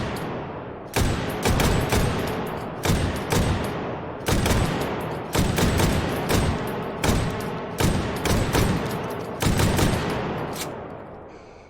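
Bursts of semi-automatic gunfire from a virtual range in Hot Dogs, Horseshoes and Hand Grenades, loud and close, with rapid repeated shots in several clusters separated by short pauses.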